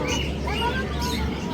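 Farm birds call and chirp in the evening, a steady mix of small tweets and coos close by, with a person talking over them throughout.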